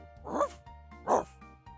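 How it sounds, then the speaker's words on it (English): Two sharp, close dog barks from the video game Hanako's Flower Shop, spaced about 0.7 seconds apart, with a brief faint yip at the end. "Whoa! It's all right. No need to bark up a storm."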